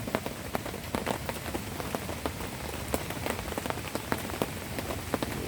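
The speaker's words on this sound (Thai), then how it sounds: "ฝนตกทั้งคืน" Heavy rain pours on a campsite by Ban Tak Nong waterfall at a forest ranger station in Thailand, a dense steady hiss broken by sharp individual drops striking nearby surfaces, loud and close with no talking.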